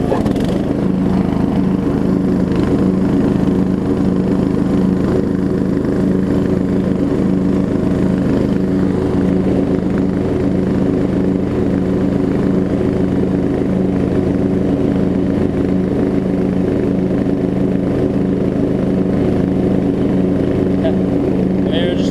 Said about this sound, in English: We got a running mower that I've been sitting on for about 2 months